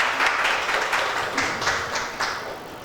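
Congregation at a Sunday morning church service clapping together, a dense rhythmic wash of many hands, loud and sustained throughout.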